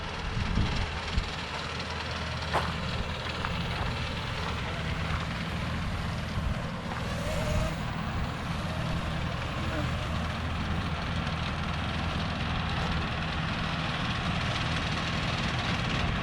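Small trick-capable RC drone flown outdoors in gusty wind, a steady buzzing hum mixed with strong wind rumble across the whole stretch, with a voice talking briefly over it.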